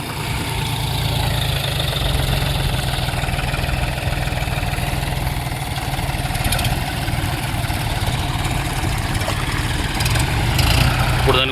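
A John Deere tractor, stuck on a farm in rain, idles steadily after being started, its low diesel rumble continuous and close throughout while people talk over it.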